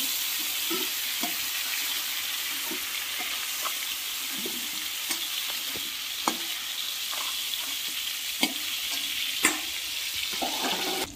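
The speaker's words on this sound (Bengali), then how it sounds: "বেশি ভাজবো না, হালকা ভাবে ভেজে তুলে নিচ্ছি।" Prawns frying lightly in a pan give a steady sizzle, with scattered soft clicks and taps of a utensil against the pan throughout, close and alone without any talk.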